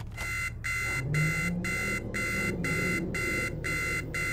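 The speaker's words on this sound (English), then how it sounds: "Someone shut the buzzer off." A helicopter warning buzzer in the video game Arma 3 sounds as a loud, steady run of regular repeating beeps, about two per second, over low engine rumble, with no talking.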